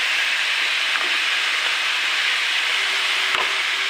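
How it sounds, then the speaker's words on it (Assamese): Spices are poured into banana stem vegetables frying in a pan and stirred, giving a loud, steady sizzle with occasional faint scrapes and one brief knock near the end, and no voices. "মছলাখিনি এতিয়া আমি চব্জিত ঢালি দিম।"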